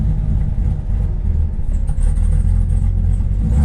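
A Camaro ZL1 V8 holding a low, steady rumbling rev on two-step launch control, loud and close, with a constant throbbing drone and no voices.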